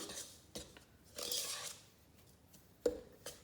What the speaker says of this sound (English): Now I give this a good mix with a spoon.